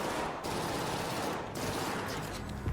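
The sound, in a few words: gunfire in ARC Raiders video game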